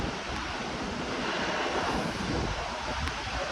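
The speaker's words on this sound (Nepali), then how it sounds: "यो हो नि त असली झरना भनेको" Khunkhume waterfall in Taplejung pouring steadily, a dense, even roar of falling water close by with faint wind buffeting, no voices.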